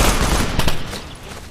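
Automatic gunfire in Operation Flashpoint: Dragon Rising, a quick burst of overlapping shots loud and close, fading over about a second and a half.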